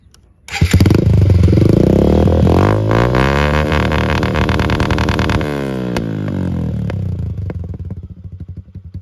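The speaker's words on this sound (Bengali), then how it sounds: "বাইক স্টার্ট দিয়া দেখবা কেমন সাউন্ড" A Suzuki Gixxer motorcycle fitted with an Akrapovic R6 exhaust starts up, then runs loud and close with a deep, throbbing exhaust note and a few blips of the throttle before it settles and fades near the end.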